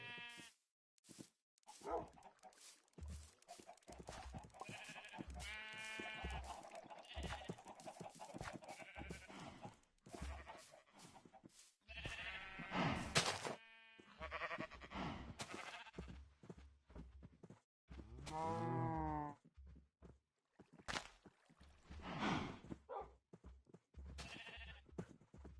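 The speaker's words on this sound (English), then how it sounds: "These sheep do not want to eat." Sheep in Minecraft bleat repeatedly, a string of close, wavering baas from several animals with short pauses between calls.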